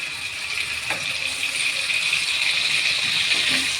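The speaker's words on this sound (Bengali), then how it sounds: "এবার কড়ার মধ্যে প্রথমে দিলাম রসুন কুচি।" Chopped garlic fries in a hot wok, giving a steady, broad sizzling hiss that stays even and fairly loud throughout, with a couple of faint clinks.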